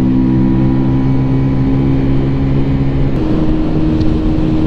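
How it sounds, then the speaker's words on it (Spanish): A Keeway V Cruise 125 motorcycle rides through a tunnel, its steady engine drone with strong low harmonics filling the enclosed space continuously and loudly, shifting slightly in pitch partway through, with no talk. "Y así suena la moto en el túnel."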